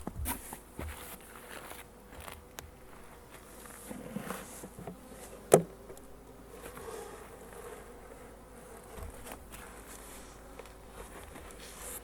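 Bees buzzing around garden beehive boxes in spring, a faint, thin drone with insects passing near the mic, one sharp knock partway through and occasional light handling sounds, no talking.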